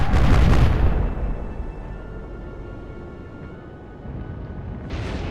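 A naval shell strikes a WWII warship, setting off a heavy explosion that booms loudly, then decays into a long low rumble before another blast rises at the end.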